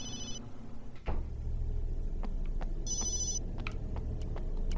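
A cell phone rings in the horror video game Obscure, two short electronic trilling bursts a few seconds apart over low ambient rumble, with scattered clicks and taps.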